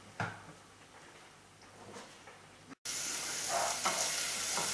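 Chopped shallots sizzle in oil in a pan, a soft crackle at first that swells into a loud, steady hiss after a brief gap, with occasional stirring knocks, up close.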